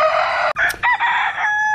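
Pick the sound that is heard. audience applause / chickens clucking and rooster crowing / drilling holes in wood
chickens clucking and rooster crowing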